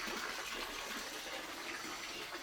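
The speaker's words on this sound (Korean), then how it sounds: "이렇게 더울 때는 물소리만 들어도 시원합니다." Water rushes steadily at a water-play area of a riverside pension in Jeongseon, a constant broadband hiss without breaks, fairly close and moderately loud, with no voices.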